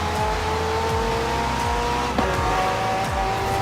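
A McLaren hybrid car in Forza Horizon 4 drones with a steady mid-pitched engine note, repeated gear shifts dipping and climbing as it drives at speed.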